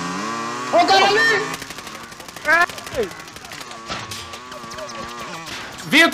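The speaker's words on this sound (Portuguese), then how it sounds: "Tiro de metralhadora, Vitor." Rapid bursts of automatic machine gun fire in Call of Duty: Warzone crackle in quick repeated rounds, loud and close, mixed with shouting voices and other game effects.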